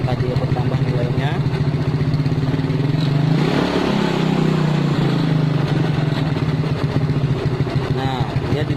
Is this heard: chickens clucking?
no